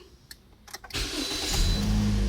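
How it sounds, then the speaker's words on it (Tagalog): A few faint clicks and cranks, then a Toyota Corolla engine with weak acceleration turns over and catches, settling into a loud, steady rumble close by. "So start natin ng makina."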